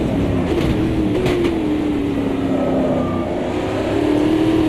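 An Indy race car in Automobilista 2 at the Indy 500, its engine a loud, continuous high-revving drone with a slowly sliding pitch, steady throughout with no talk.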